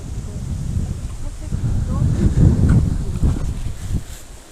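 Low, rumbling wind buffets the microphone, swelling and easing over a few seconds, with no clear talk.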